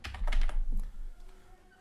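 Typing profile details on a computer keyboard: a short flurry of close, clattering keystrokes that thins out and fades within a couple of seconds.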